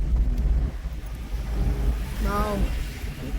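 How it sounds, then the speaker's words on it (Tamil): Wind gusts buffet the microphone on Ariyaman Beach, a low rumbling roar with a brief voice heard over it. "காத்து எப்படி அடிக்குது பாத்தியா"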